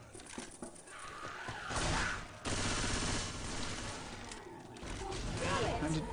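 Gunfire from the video game Left 4 Dead crackles in repeated volleys, partly masked under ongoing commentary and voices throughout.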